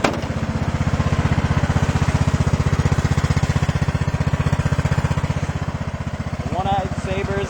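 A Sabre lawn tractor engine idles up close near the muffler, a loud, rapid, even putter throughout, with a person talking briefly near the end.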